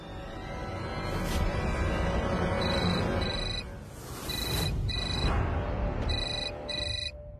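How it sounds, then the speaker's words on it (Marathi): A telephone rings with a repeating electronic ringtone in a Marathi TV drama scene: short bright chirps in bursts that return several times over steady background music. "विजूचा फोन आहे. उचल ना."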